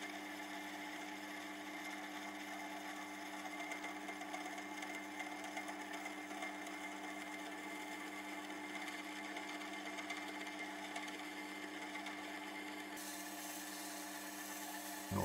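A lathe spins a damaged Sachs Torpedo hub axle while a small hand file works it, giving a faint, steady motor whir and hum that runs unbroken and alone throughout.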